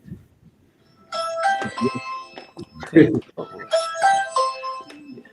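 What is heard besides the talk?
doorbell ringing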